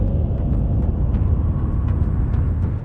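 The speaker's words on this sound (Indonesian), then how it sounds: "pasir yang bernyanyi" Booming singing sand dune, a steady low rumbling drone much like a distant airplane, continuous and fairly even for a few seconds.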